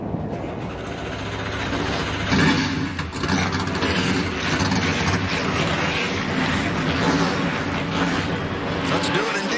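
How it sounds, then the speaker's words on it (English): Pickup trucks of the NASCAR Gander RV & Outdoors Truck Series fire up at Pocono Raceway before the Pocono Organics 150: a loud, dense, continuous engine roar with a rumbling low end and faint voices underneath. "drivers, start your engines."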